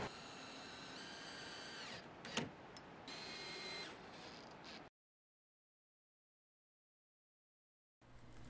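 A power drill drives screws into the bottom of a floating entertainment center shelf, a steady loud whir running about five seconds with a brief spike, then silence before another burst starts near the end.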